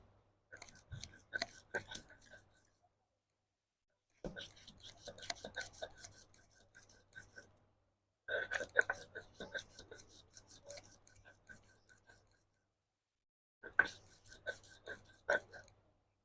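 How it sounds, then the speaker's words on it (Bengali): Ginger and garlic crushed into paste by hand, heard as close, rhythmic scraping and grinding in several bursts separated by pauses, with quiet talking in between. "এভাবে সবটুকু আদা আর রসুন আমি সব বেটে নিব একসাথে করে করে।"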